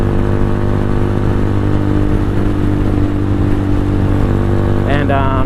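A Venom X22R motorcycle at night, its engine a loud, steady close drone with strong low rumble and wind noise throughout, and a voice briefly heard near the end.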